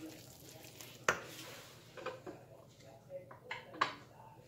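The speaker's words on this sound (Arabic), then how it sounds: "غنخلط هاد العجينه هاد الدقيق مع الماء مزيان مع الخميره والزيت" Whole wheat bread dough of flour, water, yeast and local oil being mixed with a spoon in a bowl: scattered scraping and sharp clinks against the bowl, with a voice speaking in the background.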